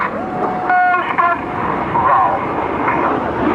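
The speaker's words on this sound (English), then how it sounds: "3 aircraft now." RAF Red Arrows display jets roar overhead at the 2008 AirPower Over Hampton Roads airshow. A commentator talks over the loudspeaker above the steady engine rush and wind.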